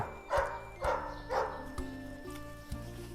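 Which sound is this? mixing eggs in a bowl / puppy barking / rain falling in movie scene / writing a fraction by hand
puppy barking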